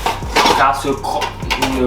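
Metal cookware clanks and scrapes several times in quick, irregular succession, close by, like a saucepan being picked up and set down among utensils.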